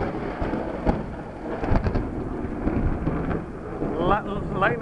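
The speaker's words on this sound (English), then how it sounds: "Lightning had just struck" Thunder rumbles and cracks through a steady rainstorm, with rain pattering and wind buffeting the microphone, loud and close, and a voice speaking briefly near the end.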